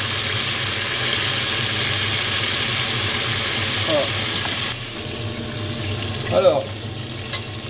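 Beef pieces browning in a pan for a carrot beef stroganoff give a steady, moderately loud sizzle, with a brief scrape of stirring and a few spoken words over it.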